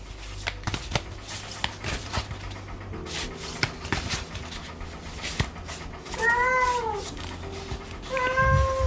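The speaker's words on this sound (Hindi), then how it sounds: "एक और कैट है नीचे यहाँ पे" A cat meows several times in the second half, rising wavering calls near the microphone, over soft rustling and shuffling of tarot cards.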